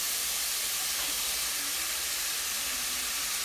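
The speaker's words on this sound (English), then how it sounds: "We're going to put in our garlic and our onions" Garlic and onions sizzle and hiss steadily in a hot pan with browned sausage and chorizo, a constant close frying sound with no pauses.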